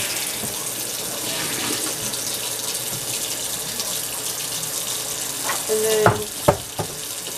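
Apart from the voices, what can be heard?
water poured out of a trash can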